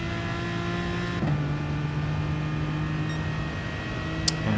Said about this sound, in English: try to get the car to turn here to get on throttle as quick as possible